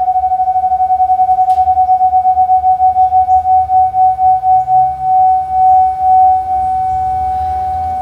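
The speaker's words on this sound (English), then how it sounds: "you'll hear those tones, they do not match up" Two radio tones play during frequency calibration of an RS-918 transceiver: a steady loud whistle that beats against a second slightly mismatched tone, giving a pulsing wobble that slows as the tones converge, with no talking.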